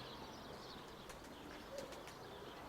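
Pigeons kept by a fancier give faint, soft coos against a low background hiss, with a few brief chirps and light rustles scattered through.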